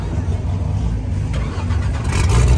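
A Chevrolet Omega car engine, in Goiânia, cranks and turns over, a steady low rumble that builds and grows louder toward the end, close by with faint voices underneath.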